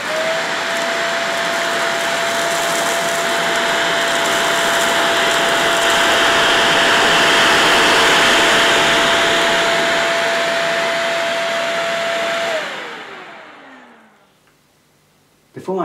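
A Shark Powered Lift Away Speed vacuum cleaner runs steadily on a hard floor, a loud continuous motor whine and airflow roar with a constant tone that winds down and cuts off near the end.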